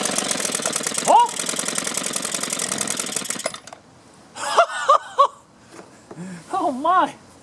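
A two-stroke string trimmer engine runs loud and rough for about three and a half seconds with a harsh buzzing rattle, then cuts out, leaving quiet bursts of talk afterward.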